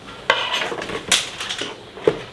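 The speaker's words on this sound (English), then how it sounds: "we are just breaking the seal with the help of a screwdriver" A screwdriver prying and tearing the seal on a cardboard headphone box, heard as three sharp close scraping cracks with rustling in between.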